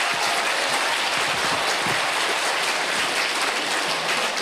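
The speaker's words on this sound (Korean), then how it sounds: "박수 한번 주십시오." A union members' meeting audience in a hall applauds after an announcement about the Goejeong District 5 construction contractor, a dense, continuous wash of many hands clapping that sounds almost like heavy rain, steady throughout.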